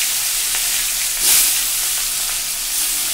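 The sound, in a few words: hilsa fish frying in mustard oil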